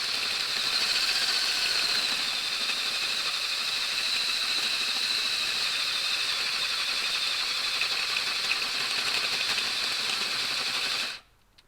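A drill turns a tap on low speed into the oil pan of an LS 5.3 engine, making a steady, close, hissing whir that runs unbroken before stopping abruptly.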